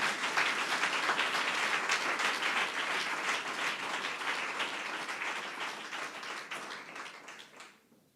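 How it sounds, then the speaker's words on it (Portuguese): Church congregation applauding during an Easter sermon, a sustained wash of many hands clapping at moderate distance that fades out near the end. "Damos um aplauso para Jesus."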